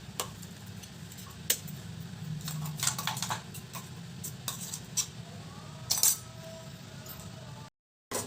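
Ground green chilli chutney is spooned from a mixer jar into a bowl: scattered light clinks and taps of a spoon against the container over a quiet background hum.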